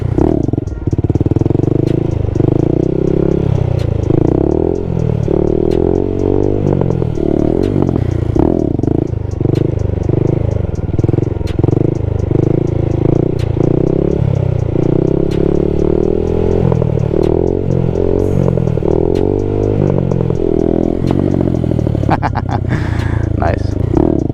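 A stunt Honda Grom motorcycle engine revs and eases under smooth throttle control, with a steady, close running drone beneath near-constant talking throughout.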